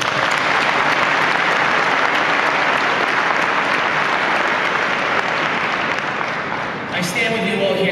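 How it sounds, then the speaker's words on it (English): Loud, sustained applause from an award gala audience fills the room throughout, steady and dense, easing slightly near the end before a brief sharp sound. "Let's give them a big round of applause."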